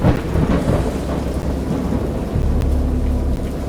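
A thunderstorm in the game Dagon: a heavy rumble of thunder rolls continuously beneath steady rain, loud and dense throughout.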